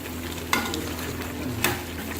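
Chicken being stirred in a handi with roasted cumin and white pepper for chicken makhani: a steady sizzle with two sharp scraping stirs against the pot.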